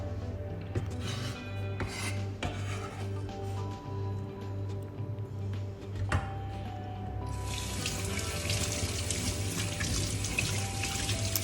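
A kitchen sink tap runs steadily while hands are washed between prep steps for Jamaican brown stew chicken; the flow is close and continuous, with rubbing and splashing, growing brighter and fuller in the last few seconds.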